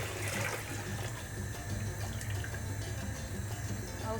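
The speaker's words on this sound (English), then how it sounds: "I'll go ahead and transfer my mixture into my pot." Groundnut porridge mixture pours into a cooking pot in a continuous, close, liquid rush that stays even throughout with no speech.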